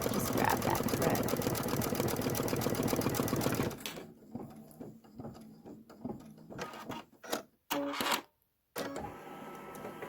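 An embroidery sewing machine stitches a Kimberbell Main Street Celebration General Store design, a dense, fast mechanical chatter that runs loud and continuous, then gives way to sparse clicks, brief pauses and short renewed bursts.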